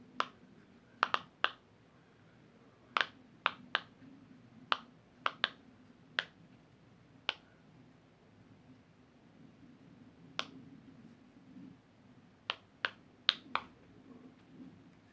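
Sharp clicky pops from fingers pressing and running across a silicone pop-it fidget toy, scattered single snaps and quick clusters at close range over quiet background hiss.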